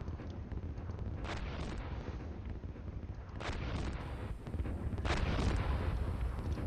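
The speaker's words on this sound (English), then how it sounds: "they're firing hard at me" Enemy gunfire and explosions in the tank simulator Steel Beasts Pro, with a few booming impacts rolling out over a continuous rough, wind-like battle rumble.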